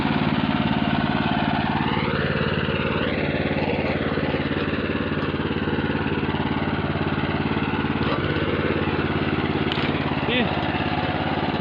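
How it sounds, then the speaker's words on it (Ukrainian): A walk-behind tractor drives over rough ground to another plot, its engine chugging loudly and steadily up close, with slight pitch shifts as it works over the bumps. "Дорога досить така важкувата, невеличка діляночка, але мотоблок цим справляється."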